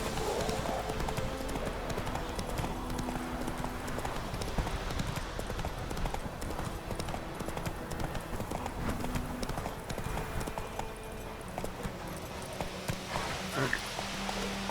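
Horse hooves clip-clop in a steady galloping rhythm throughout The Witcher 3, loud and continuous over a dense bed of game ambience.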